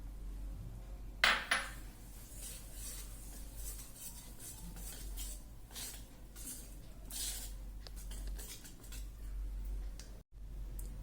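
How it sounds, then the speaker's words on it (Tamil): Semolina being stirred into a wheat and banana malpua batter in a bowl, giving soft scraping and light ticking clinks of a spoon against the bowl, close and quiet, with no talking. "இப்போ நான் ரவையும் போட்டு நல்லா கிண்டிடுறேன்"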